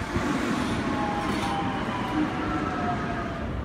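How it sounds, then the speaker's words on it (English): A train at a platform in Roma Street Station, Brisbane, gives off a steady, loud rumble with faint tonal whines, continuous throughout with no talk. "I thought it was my train already in platform 10, but actually it's another train"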